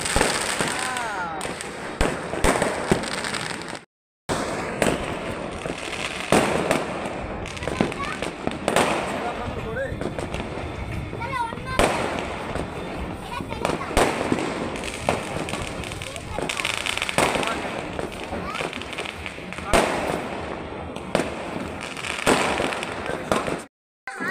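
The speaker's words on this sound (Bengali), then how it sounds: "আমরা চলে গেলাম আমাদের ছাদে বাজি ফাটাতে" Fireworks and firecrackers burst repeatedly on a rooftop in the evening, a dense run of loud pops and crackles with distant bangs mixed in, nearly continuous with one brief gap.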